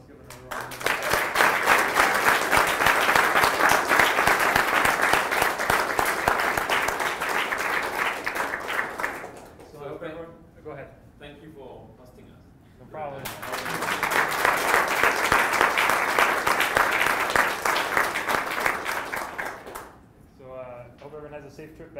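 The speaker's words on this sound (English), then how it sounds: "So let's give another round of applause." Sustained applause from the conference audience at the close of XDC 2015, hosted by Seneca College: a dense, loud wash of clapping that fades out, then a second long burst of clapping before tapering again.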